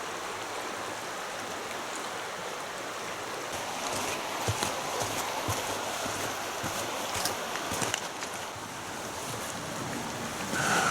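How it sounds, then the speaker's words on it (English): The River Manifold in the Manifold Valley, Peak District, flows steadily with a broad rushing wash of water, heard up close, with occasional splashes and light wind buffeting. "So I'm crossing the River Manifold now"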